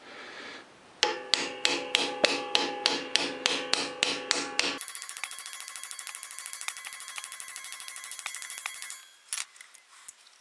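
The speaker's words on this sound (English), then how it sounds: "I'm just gonna put an extension on there so I can swing at it with the hammer better." A steady series of sharp metallic hammer strikes on an extension fitted to a Polaris 400L crank and counterbalance shaft rings out, more than a dozen blows, followed by a fast, rattling run of lighter clicks.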